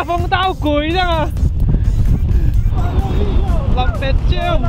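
Strong seaside wind roars steadily against the microphone, a loud continuous rumble, while people shout and exclaim excitedly over it throughout.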